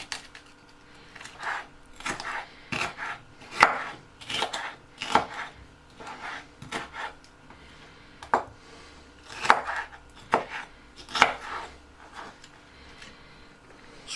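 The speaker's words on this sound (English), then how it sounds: "Spring onions cut diagonally, for garnish." Knife chopping spring onions diagonally on a board for garnish: a steady run of crisp, close taps at an irregular pace, loud against a quiet kitchen with no talk.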